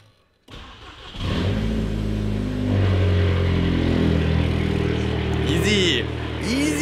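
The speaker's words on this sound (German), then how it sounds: "Und dann gucken wir jetzt mal an, ob dieser Hobel anspringt." A car engine that has stood unused for weeks cranks and fires up, then settles into a loud, close idle with rising revs. Voices briefly sound near the end.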